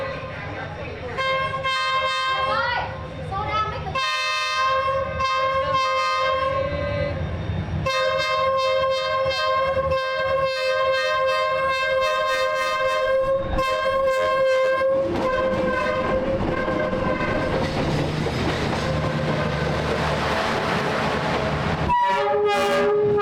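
A train rolls slowly through a narrow street in Hanoi lined with cafés, horn sounding repeatedly and loudly over the rumble and clatter of the cars, continuous and close for the whole stretch.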